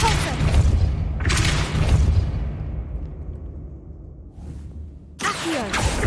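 Depulso force-push spell striking in Hogwarts Legacy: two heavy whooshing booms a second apart, then a fading low rumble, and a third burst at the end.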